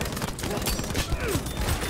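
Dense, continuous gunfire from a Battlefield V match, a near-steady fusillade of shots with scattered sharper bursts, loud and busy with no clear gaps.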